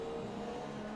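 F1 car in a racing video game at the Malaysia circuit, engine droning steadily through a corner exit as the rear slides into oversteer, a continuous loud tone with no voices over it.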